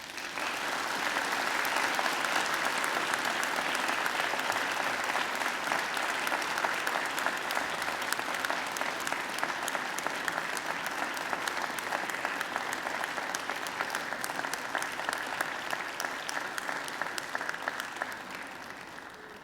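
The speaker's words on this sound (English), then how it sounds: "And now I invite you to give them a mighty round of applause." A large audience at a Macquarie University graduation ceremony applauds steadily for nearly twenty seconds, a dense, even wash of clapping that slowly eases toward the end.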